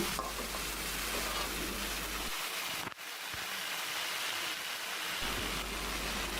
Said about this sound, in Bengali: আগে থেকে মেখে রাখা আলু আর কাঁঠালের মিশ্রণটা দিয়ে খুব ভালোভাবে নেড়ে চেড়ে মিশিয়ে নিয়ে ভেজে নিচ্ছে